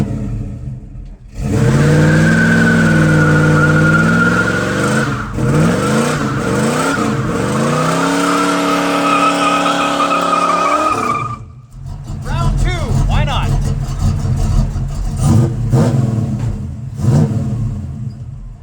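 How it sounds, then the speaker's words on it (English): Tires of a 1979 Pontiac Grand Prix on small wheels squeal through a long burnout as the engine revs hard, loud and close, then cut off around eleven seconds into idling rumble with faint voices. "You guys didn't think we weren't gonna do a burnout on these little wheels"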